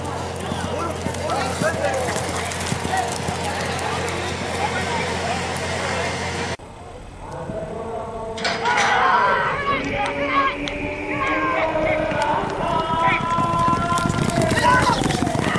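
Racehorses gallop in a 300-yard race, a thundering run of hooves with crowd noise and a Spanish-speaking announcer calling the race over it throughout.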